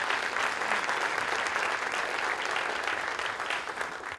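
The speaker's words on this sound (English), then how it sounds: "Let's give them one more round of applause." Sustained audience applause at a school district State of the Schools address, a dense, even wash of clapping from a large crowd filling the whole stretch without pause.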